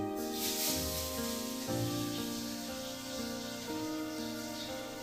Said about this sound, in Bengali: এবার লাস্টে আমি বেগুনটাকে ভেজে নিচ্ছি।